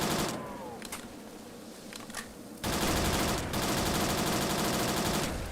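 Automatic gunfire from a Roblox first-person shooter, fairly quiet at first with sparse shots, then a sustained loud rapid burst erupts halfway through and keeps rattling to the end.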